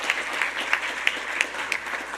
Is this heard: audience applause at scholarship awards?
yes